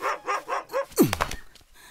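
A dog barks four times in a quick, loud run, then gives a sharp yelp that slides into a short whine before fading.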